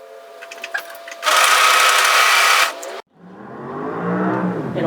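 A sewing machine stitches a hoodie seam in one loud, close, continuous whirring burst of about a second and a half, then stops; a lower mechanical hum follows.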